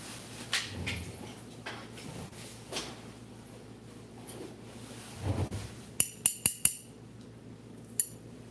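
New scissors, freshly oiled with WD-40, are handled in a quiet room: after some faint movement, a quick run of four crisp metallic clicks comes close up, then one more click a moment later.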